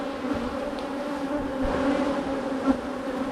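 Honeybees buzzing at an open, working hive full of brood, a dense steady drone close by and alone, swelling slightly as the bees grow restless.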